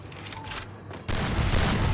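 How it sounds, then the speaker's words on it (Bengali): Gunfire erupts in a Free Fire match, with an M87 shotgun blast: a muffled first second gives way to a loud, dense burst of shots and impact noise that fills the rest of the clip, and no one talks. "M87 হেডশট লেগে গেছে।"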